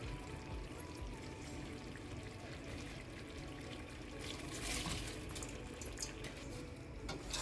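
Rice tips into a pot of partly cooked chicken for chicken biryani, making a steady, continuous rushing pour that stays fairly loud and close for several seconds, swelling slightly near the end, with no voices over it.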